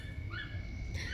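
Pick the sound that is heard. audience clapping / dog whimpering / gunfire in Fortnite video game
dog whimpering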